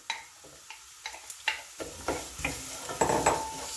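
A spoon scrapes and stirs spices with organic tomato puree in a cooking pot, a series of close rhythmic taps and scrapes over a light sizzle that grows slightly louder toward the end.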